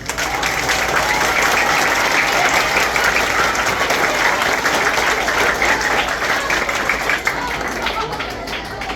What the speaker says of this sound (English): give us a round of applause for Mr. O'Brien's class.